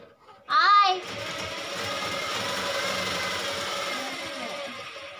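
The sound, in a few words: sewing machine running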